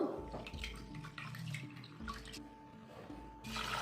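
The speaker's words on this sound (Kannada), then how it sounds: "ಬೇಳೆನ ಎರಡು ಸರಿ ವಾಶ್ ಮಾಡ್ಕೋಬೇಕು" Lentils for a village-style upsaru being rinsed in water inside a pressure cooker, with steady sloshing and swishing of water close by, pausing briefly and then resuming.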